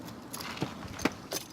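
A truck key jangles in short metallic bursts, faint and close, with a few brief clinks spread across a quiet moment.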